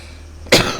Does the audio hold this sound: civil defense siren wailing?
no